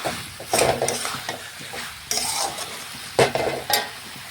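Spices being stirred into mutton in a pan: a spatula scrapes and knocks in repeated bursts over a soft, continuous sizzle, close and fairly loud.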